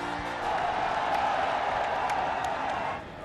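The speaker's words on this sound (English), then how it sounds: "As the fans cheer the teams coming out of the dugout" Football crowd roaring as India and Tajikistan walk out for a Hero Intercontinental Cup 2019 match, a steady broadband stadium din with a few sharper whistles and shouts, easing slightly at the end.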